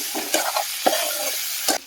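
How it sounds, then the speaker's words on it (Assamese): Pork frying in a pan with ginger and garlic, a steady close sizzle with a few scraping stirs of a utensil at intervals, no voices. "গাহৰিটো ভাজি লোৱাৰ পিছত আদা নহৰুটো দিলোঁ"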